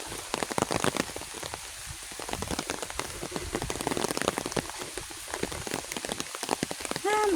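Heavy rain patters hard on a surface nearby, with dense, irregular drops and splashes throughout, continuous and loud.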